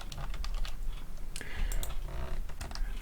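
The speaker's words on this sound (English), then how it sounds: "I'm going to type that with the text tool." Fingers type on a computer keyboard nearby, with quick, irregular bursts of clicking keystrokes and short pauses between them, and no talk.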